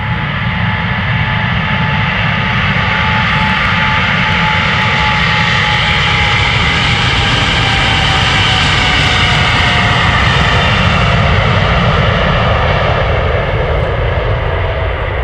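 Boeing 777-300, registration PH-BVV, departing Amsterdam Schiphol: a loud, sustained jet engine roar that swells and holds steady for the whole stretch, broadband and close, with no voices.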